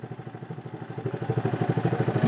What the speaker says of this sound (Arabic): الآن الموتور راهو في حالة تأهب للسير